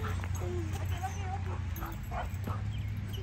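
A dog barks in short yips and whimpers excitedly several times, fairly faint against a steady background hum, with people talking nearby.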